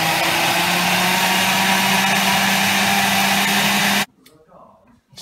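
A kitchen blender purees tomatoes, oregano, salt and black pepper for pizza sauce, running with a loud, steady whir for about four seconds. It then cuts off abruptly, leaving near silence.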